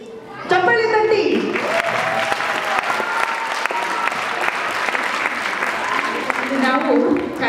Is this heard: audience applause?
yes